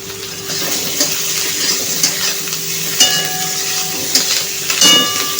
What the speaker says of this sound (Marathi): मीठ टाकल्यावरती छानपैकी परतून घेऊया 1-2 मिनिटं